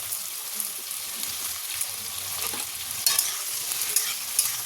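Sliced onions frying in oil in a pan and turned gently by hand, a soft continuous sizzle with light scraping stirs and occasional small crackles, close and fairly quiet with no talk.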